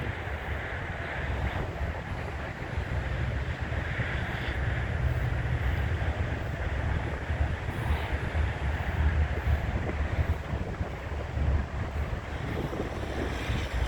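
Strong wind buffets the microphone in a continuous low roar on Tenerife, gusting steadily with a faint rush like water in the background.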